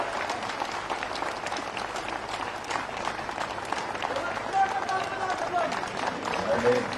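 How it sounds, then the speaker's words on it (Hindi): A crowd at a political public meeting in Tughlakabad, Delhi, applauds as Rajnath Singh is called up, a continuous wash of clapping and crowd noise with voices mixed in underneath. "जोरदार तालियों से खड़े होकर"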